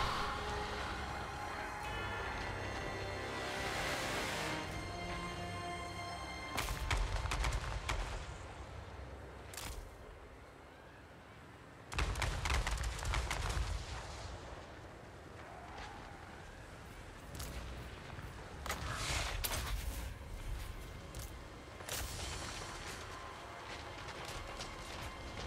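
Gunfire from units shooting on the move in the Total War Warhammer III video game: scattered bursts of shots and volley cracks over a steady battle background, moderately loud.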